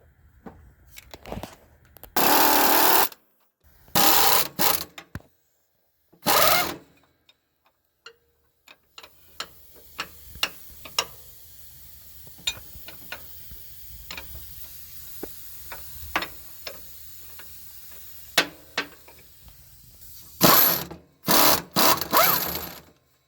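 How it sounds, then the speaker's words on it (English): Socket wrench loosening torque rod bolts on a Freightliner Cascadia semi truck: a run of sharp, rapid ratcheting ticks at close range between louder bursts of broadband clatter and hiss, with no talk. "So now we're just gonna remove the two bolts."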